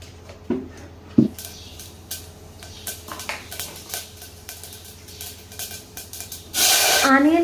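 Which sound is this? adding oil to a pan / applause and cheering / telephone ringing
adding oil to a pan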